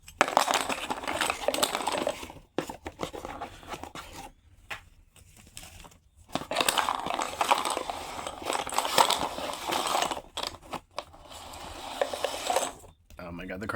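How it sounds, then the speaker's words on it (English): Goosebumps game cards spilling out of a box, heard as several rustling, clattering bursts of cardboard and plastic pieces close up, separated by short quiet gaps. "the cards fell out"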